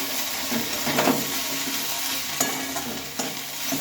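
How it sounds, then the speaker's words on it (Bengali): Onion greens being stirred and fried in a pan on a gas stove, a steady close sizzle with scraping strokes of the spoon against the pan, no talking. "ঢাকা চাকাটা খুলে নিয়েছি আর তাকে খুব ভালোভাবে নেড়ে চেড়ে দিচ্ছি"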